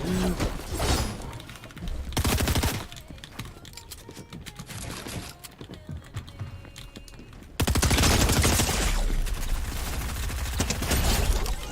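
Pistol gunfire rings out in a Fortnite UEFN custom game map, loud rapid shots clattering in dense bursts with brief quieter gaps between volleys.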